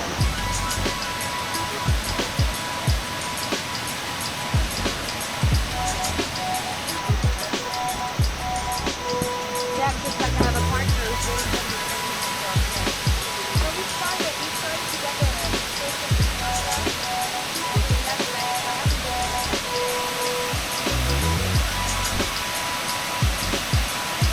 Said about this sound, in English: the mighty Kuang Si waterfall